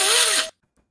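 A vacuum cleaner runs loud and close for half a second with a whining motor tone, then cuts off abruptly into near silence.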